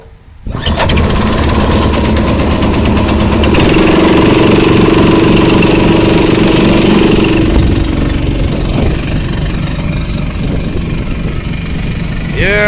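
A homemade gas generator built about a year and a half earlier, fitted with an improvised exhaust meant to quiet it, starts up after a brief pause and settles into a loud, steady engine drone that holds to the end of the clip.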